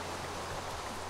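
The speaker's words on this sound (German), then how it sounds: "Ne, Regen und gleich Gewitter und so, das ist einfach." Steady rain pouring down in the Minecraft video game, a dense even hiss with low rumbling undertones from the gathering thunderstorm, continuous and close with no voices.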